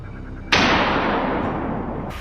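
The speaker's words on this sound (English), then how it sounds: "I adjusted my scope and fired" A single loud rifle shot fired at wild boar in a frozen winter forest, a sharp close blast followed by a long rolling echo that decays slowly for over a second and a half.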